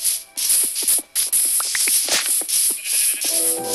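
Sheep bleating in Minecraft Pocket Edition, several loud overlapping bleats packed closely together over a hissy background, with no talk.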